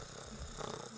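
A person imitates a cat purring with a faint, low, steady rumble that lasts about a second.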